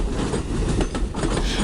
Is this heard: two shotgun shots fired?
no